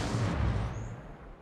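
Gunfire in the video game Apex Legends: a dense, loud burst of booming shots in the first second, fading into a lingering low rumble with no talk.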